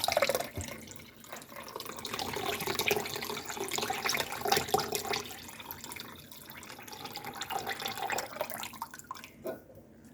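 Canned beef broth glugs and splashes into a mixture with French onion soup for a crock pot meal, uneven pouring in short surges with a faint drip and a sharp clink at the end.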